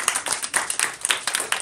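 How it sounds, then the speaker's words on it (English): A small audience claps for panelists at a school debate, with a few distinct hands striking in a quick, uneven rhythm, close and fairly crisp over the short stretch. "can we give a round of applause for all of our panelists"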